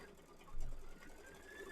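An embroidery machine stitches an in-the-hoop bee-themed mug rug design, giving a faint, steady mechanical whir with a brief louder pulse.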